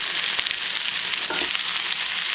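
Spam and fingerling potatoes frying in a pan for breakfast hash, a loud, steady hiss and crackle of sizzling fat with faint stirring scrapes, no voices.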